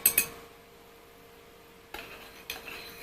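Metal utensils clink against glass while a whiskey drink is stirred together with its ingredients: two quick bright taps at the start, a quiet pause, then two more clinks near the end, with no talking.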